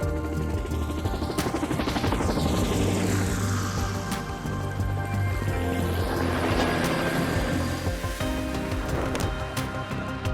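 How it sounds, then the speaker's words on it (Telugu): A helicopter roars overhead, its dense rotor and engine noise loud and steady for about ten seconds, with whooshing sweeps suggesting it passes near and moves across. "మన కోసం అయితే హెలికాప్టర్ రెడీగా ఉంది"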